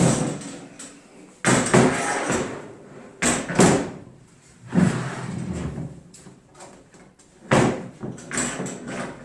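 A metal meat smoker door being taken off: repeated clanks, bangs and scraping metal rattles come in bursts with quieter handling between, close and fairly loud.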